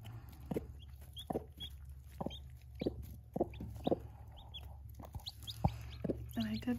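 Backyard urban-farm chickens cluck softly and repeatedly while feeding with their chicks, short close calls and peeps scattered over a steady low hum, no talking.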